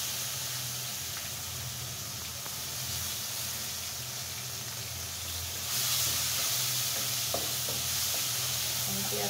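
Chopped onions frying in a pan, a dense continuous sizzle close by with occasional stirring scrapes, growing slightly louder midway.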